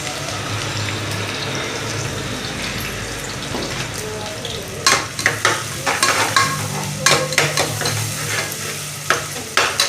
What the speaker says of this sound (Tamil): இப்போ எண்ணெய் நல்லா காஞ்சிருச்சு இங்கே பாருங்கள் புதுசாக கட் பண்ணியிருக்கேன் இந்த நாட்டு வெங்காயத்தை போடுறேன்